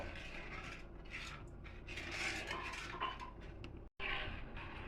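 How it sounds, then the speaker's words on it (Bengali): Milk and sugar stirred continuously in a pan while being boiled down into homemade condensed milk, a steady close scraping and clinking of utensil against metal, with one brief gap near the end. "নাড়া বন্ধ করা যাবে না নাড়তে হবে"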